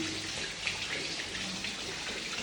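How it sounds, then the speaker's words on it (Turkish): Water drains from a hydrophore pressure tank, a continuous hissing rush of flowing water at moderate level throughout, with no voices. "Şimdi suyunu boşaltıyoruz."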